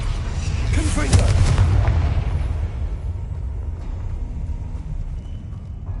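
A Confringo blasting spell explodes in the Hogwarts Legacy video game: a single loud, booming blast rolls in about a second in and fades into a long rumbling decay.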